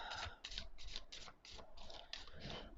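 Large Oracle of Pluto oracle cards, taller and wider than standard tarot, are shuffled in quick rhythmic bursts of soft papery riffles, close and faint, with about eight repeated pulses.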